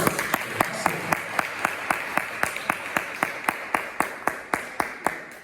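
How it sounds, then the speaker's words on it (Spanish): A church congregation claps in a slow, even rhythm, about three claps a second, each sharp and distinct, moderately quiet with a faint wash of room sound behind. "¿Alguien podría dar un aplauso al Señor?"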